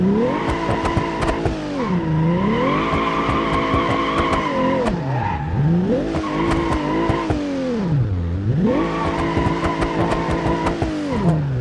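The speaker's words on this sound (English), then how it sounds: "We will test it out a bit on controller to see how it drifts and the potential that it has." A car drifting in the BeamNG.Drive video game, with the engine revving up and down in repeated swoops under sustained tire squeal and skidding, loud and close with no voices.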